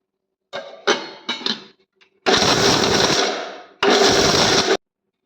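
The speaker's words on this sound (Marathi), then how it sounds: "या मिक्सरमध्ये सगळे ड्रायफ्रूट्स टाकलेत उघड बंद उघड बंद करून दळायचं आहे" A mixer grinder coarsely grinds dry fruits in short pulses: a few quick rattling bursts, then two longer loud grinding runs separated by a brief pause.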